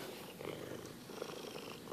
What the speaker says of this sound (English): God, that's a loud purr.